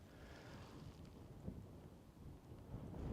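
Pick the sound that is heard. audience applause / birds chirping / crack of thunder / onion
crack of thunder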